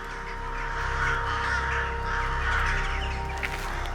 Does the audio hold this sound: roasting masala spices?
no